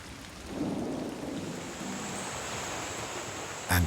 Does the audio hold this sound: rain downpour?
yes